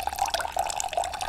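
Thin stream of water running from a tap during an electrostatics demonstration: a close, steady trickle with a light splashing flutter, heard on its own without talk.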